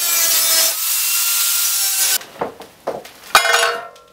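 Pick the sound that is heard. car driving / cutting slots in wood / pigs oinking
cutting slots in wood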